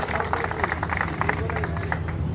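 Audience applause at a political gathering in Sirsa welcoming arriving leaders: a dense, steady patter of many hands clapping, fairly close and sustained, over a low crowd murmur with no clear talk.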